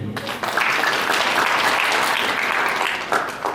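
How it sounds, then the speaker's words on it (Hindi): Devotees at a Hindu religious katha gathering break into steady applause, many hands clapping together throughout with a few voices faintly mixed in. "जो 17वीं कथा में बैठे हैं, वाह, तालियां बजाइए।"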